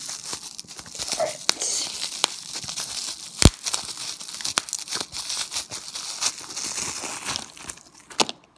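A plastic mail package holding a blind box toy is torn open and crinkled by hand, with repeated sharp rips and crackles at close range and a louder snap near the middle.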